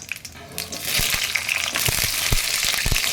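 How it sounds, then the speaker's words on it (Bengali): Potatoes dropped into hot oil over a spice tempering for a spinach-stem chachchari, giving a steady close sizzle with crackling pops that swell as the pieces hit the pan and keep frying without a break. "ফোড়নটা ভাজা হয়ে গেছে এবার আমি সবজিগুলো দিয়ে দিচ্ছি প্রথমে দিচ্ছি আলুটা"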